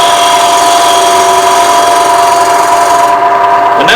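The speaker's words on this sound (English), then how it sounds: "so I'm going to do a shear cut" A gouge makes a shear cut on a small wooden bowl spinning on a wood lathe, a loud, continuous whir with a high, even tonal ring that shifts slightly near the end.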